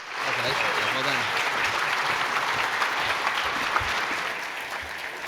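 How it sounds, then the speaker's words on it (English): Audience applause for three contestants and judges at a think tank pitch competition during a liberty forum dinner, steady dense clapping throughout with faint voices underneath. "Let's have one more round of applause for all 3 of our contestants and also our judges."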